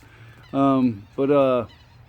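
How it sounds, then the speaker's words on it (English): Two loud, drawn-out honks from geese or similar birds, each lasting about half a second, close by over a low steady background hum. "look at all the birds"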